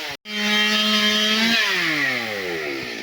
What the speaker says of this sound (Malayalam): മരം മുറിക്കുന്നു.